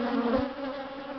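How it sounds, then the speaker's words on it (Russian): An angry swarm of bees at a hive hums in a dense, steady buzz, close and continuous through the brief moment, with no voices. "Зверские пчелы"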